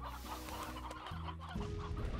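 Chicken clucking in the video game Slime Rancher, a few soft repeated clucks heard faintly beneath steady game music and background ambience.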